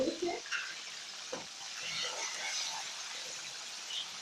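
Tomatoes, with garlic, frying in a pan for dhaba-style bhindi, giving a steady hiss of sizzling with a few soft stirring scrapes near the start, close and moderately loud.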